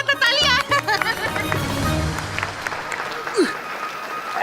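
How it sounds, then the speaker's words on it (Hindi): Studio audience claps through a comedy stage episode of Aladdin, a steady wash of applause that swells briefly over the first second and carries on under lively voices and laughter. "तालियां"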